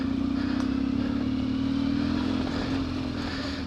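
An off-road motorcycle engine idles and putters steadily at low revs, close by, as the bike creeps slowly through a muddy bog, with a continuous low hum and slight clatter.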